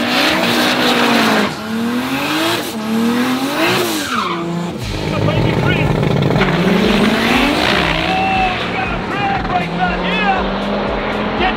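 A green push rod buggy and a 2J car drag race in South Africa, engines screaming loudly as they climb through the revs and shift gears, with tire squeal and a commentator speaking over the roar throughout.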